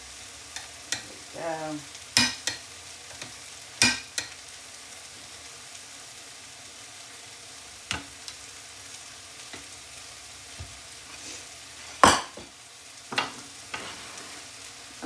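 Peppers, onions and tomatoes are stirred in a frying pan, a low steady sizzle broken by scattered sharp utensil scrapes and clacks against the pan, with a brief spoken remark.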